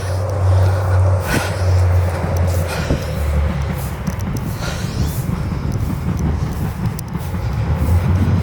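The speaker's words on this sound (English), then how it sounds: "there's a train coming." Train passing outdoors in wet conditions, a broad rumbling roar with low droning engine tones and occasional clanks, loud and continuous throughout the clip.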